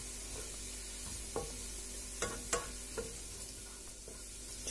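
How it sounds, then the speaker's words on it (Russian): Flour frying and being stirred in a pan for a creamy chicken soup: a quiet, soft sizzle with a few light scrapes and taps from the stirring, and no voices. "Чуть-чуть обжарила муку."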